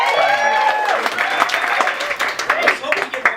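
A comedy club audience claps and cheers as comedian Molly Segale is introduced, the clapping uneven and thinning over a few seconds while a voice talks over it.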